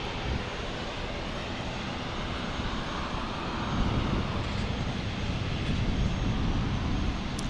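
A jet airliner rumbles with a broad, roaring engine thunder during takeoff at Fort Lauderdale International Airport, loud and sustained, swelling slightly midway with no voices over it.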